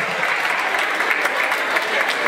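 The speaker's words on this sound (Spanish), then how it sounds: "Fuerte el aplauso para Lori." A crowd at a certificate ceremony for a parenting school claps steadily, a dense, even burst of applause that carries all the way through.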